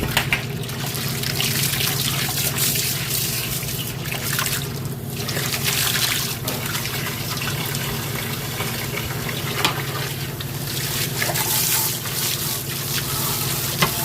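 Water pours and splashes steadily as an old ringer washer tub with a Bakelite agitator is rinsed out, a continuous close rushing trickle with no talk.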